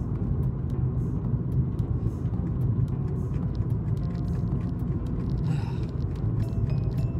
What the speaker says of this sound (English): that truck just basically came into my lane